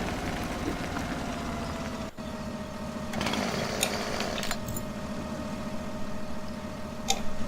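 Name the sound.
chainsaw in Farming Simulator 17 video game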